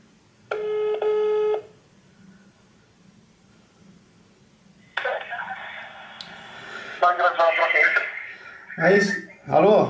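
Telephone keypad tones dial out to a McDonald's restaurant, followed by a steady ringback tone and a clear connection sound, with a voice answering on the line near the end.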